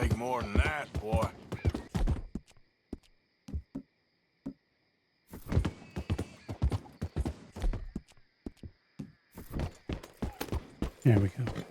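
A horse in Red Dead Redemption 2 clops along with rhythmic hoofbeats and gives a whinny, with pauses and near silence midway and voices talking over parts of it.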